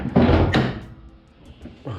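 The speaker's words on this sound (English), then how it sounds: "this door hits that quarter panel" The door of a 1980s Toyota AW11 MR2 being stripped down for rust swings out and strikes the quarter panel with a close, dull thunk. Softer knocks follow in a quiet garage.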